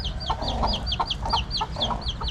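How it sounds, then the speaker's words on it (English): Chickens cluck repeatedly in quick, uneven bursts over a steady low background rumble, fairly close and moderately loud. "there we go, some chickens"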